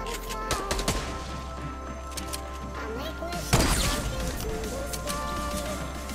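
Rapid bursts of video game gunfire crack over a continuous electronic hum, with a loud heavy blast midway and excited shouting in the background.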